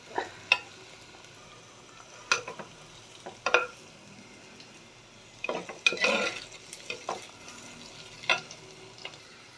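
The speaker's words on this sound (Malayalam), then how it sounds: "ഉള്ളിയൊക്കെ വഴന്ന് ബ്രൗൺ കളറായി വന്നിട്ടുണ്ട് ബ്രൗൺ കളറായിക്കൊണ്ടിരിക്കുന്നുണ്ട്" Onions sautéing to brown for a roasted-coconut chicken curry, with a soft sizzle in the pan broken by repeated scraping stirs of a spoon or spatula, close and fairly loud.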